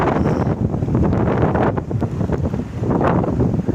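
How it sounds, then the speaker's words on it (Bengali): Loud, sustained roar of Cyclone Remal's storm wind, around 90 km/h, buffeting the microphone beside the Bidyadhari River, with gusts swelling and easing throughout and a faint wash of choppy water underneath. "প্রচুর 90 কিলোমিটার বেগে ঝড় হচ্ছে"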